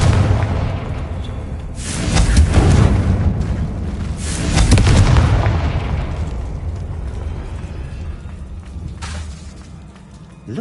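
Confringo fire spells in the game Hogwarts Legacy burst in two heavy, rumbling explosions a couple of seconds apart, each swelling loudly and then fading into a lower, sustained roar with scattered pops.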